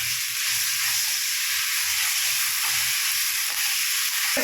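Grated raw mango sizzles and hisses steadily in a hot frying pan as it is stirred, with faint scraping under the constant close frying noise.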